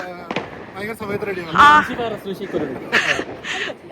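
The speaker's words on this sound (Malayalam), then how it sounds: "ഇങ്ങനെ റോഡിൽ അവര് കുറെ പടക്കം പൊട്ടിക്കുന്നുണ്ടെങ്കിലും" Firecrackers bursting on a road during New Year celebrations: a few sharp pops sound in the background, mostly masked by a person talking continuously close by.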